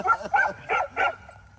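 A dog on a farm where goats are kept lets out four quick, close barks in a short burst, each sharp and loud, before falling quiet.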